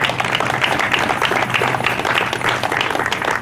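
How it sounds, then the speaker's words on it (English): An audience at the Essex Art Center's mural dedication applauds the staff and board, a fairly even spread of clapping hands from a modest crowd, steady throughout and heard alone without speech. "So a big round of applause for our staff and our board."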